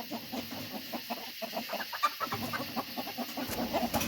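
A farm flock of chickens and several roosters cluck steadily, with many overlapping short calls in a busy, continuous chorus close by.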